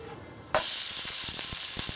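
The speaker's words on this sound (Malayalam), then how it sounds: "കടുക് പൊട്ടി വരുമ്പോൾ നമുക്ക് ഇതിലോട്ട് വറ്റൽമുളക് ഇട്ട് കൊടുക്കാം, അതുപോലെ തന്നെ ഉഴുന്ന് കൂടി ചേർക്കാം" Mustard seeds, dried red chilli and urad dal hit hot oil for an idli upma tempering, a sudden loud sizzle bursting in after a quiet half-second and holding steady, with faint crackles and pops running through it.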